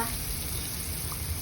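Chopped onion fries in a pan for pork chops with mushrooms, giving a soft, even sizzle throughout with no talk.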